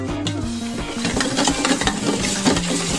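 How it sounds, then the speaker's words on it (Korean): Thick Nutella slime is stirred vigorously in a bowl, making continuous squelchy, scraping sounds that are loud and close, with a low tonal hum underneath. "이제부터 젓는 일만 남았습니다. 열심히 저어주세요."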